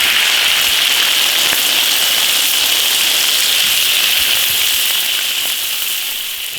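Potato pieces frying in hot oil in an iron wok give a loud, steady crackling hiss that holds evenly throughout and eases slightly toward the end, with no voices.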